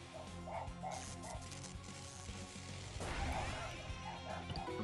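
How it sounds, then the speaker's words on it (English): Dogs bark in the background, a few soft repeated yaps sitting faint and distant beneath a steady bed of game music and sound effects. "I'm sorry if you guys can hear dogs barking in the background."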